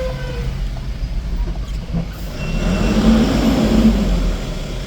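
A vehicle squeezes past close by on a narrow village road, its rumbling engine and tyre noise swelling to a broad roar, holding briefly and then easing off, with no talk.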